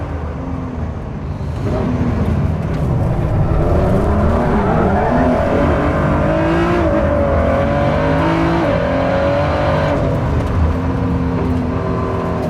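A Ford GT supercar engine builds and holds a loud, close roar as it accelerates hard, with rising and falling revs through gear changes and a steady heavy drone throughout, no talk over it.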